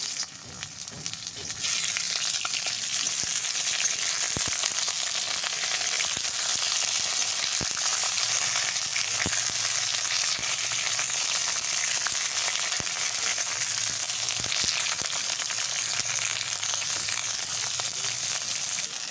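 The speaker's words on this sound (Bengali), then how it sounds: "তো এইগুলো পটলগুলো ভেজে নিচ্ছি" Pointed gourd (potol) pieces frying in hot mustard oil in a wok, a loud, steady close sizzle with occasional faint stirring clicks, continuing unbroken without talk.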